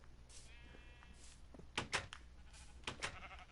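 Sheep bleating in the video game Minecraft, a few short in-game bleats with other game sounds around them, moderately close and not very loud.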